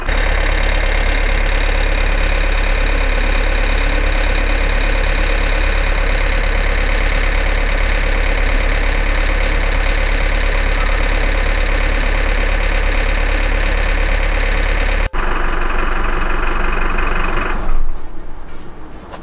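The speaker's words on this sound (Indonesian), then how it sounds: "turbo timer pada saat ini bekerja untuk mempertahankan nyala mesin sampai 1 menit ke depan" A Toyota turbocharged car engine idles steadily under a turbo timer, a loud, even drone close by that holds for about fifteen seconds before shifting in tone, with no talking.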